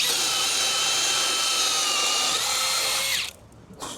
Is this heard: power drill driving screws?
yes